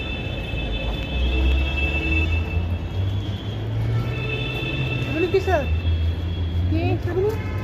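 A Delhi metro train pulls into a station with a low, rising electric motor drone and faint tonal whine, heard under people talking nearby.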